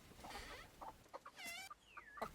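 Chickens inside a backyard chicken coop cluck and squawk close by in short irregular bursts, with a few rising calls, and no talk.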